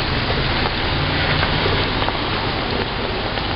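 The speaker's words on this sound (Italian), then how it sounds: "c'è l'ombrello perché piove, ha dirotto" Heavy rain pours steadily onto a Copenhagen street, a dense, even hiss of drops on the pavement that goes on throughout with no voices.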